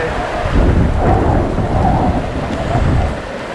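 Thunder rumbles over steady rain while fishing from an anchored boat as a storm closes in, the low booms rolling in waves beneath a constant wash of rainfall, with no voices.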